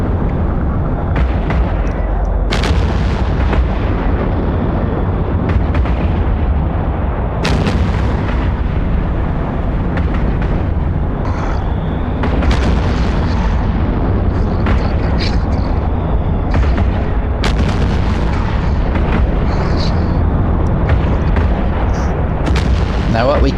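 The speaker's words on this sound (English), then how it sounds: "Oh, now he's shooting back. And he's using missiles." Space combat in EVE Online with missile fire and explosions, a loud continuous barrage of booming impacts and blasts over a heavy low rumble, sustained throughout with repeated sharp hits.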